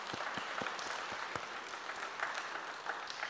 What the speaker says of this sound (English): I think we should give them a round of applause for that,